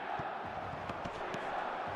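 In an eFootball match, a steady stadium-crowd roar fills the whole stretch at an even, loud level, with faint thumps and shouts mixed into the wash.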